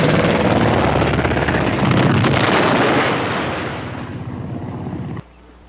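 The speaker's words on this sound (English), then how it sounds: "A second airstrike is called in." Aircraft roaring overhead during a military airstrike, a loud sustained engine rumble that gradually fades before cutting off abruptly.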